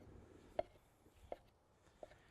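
A knife chopping heirloom tomatoes on a board, three sharp separate thuds spaced about three quarters of a second apart, close but fairly quiet, with soft background noise and no talk.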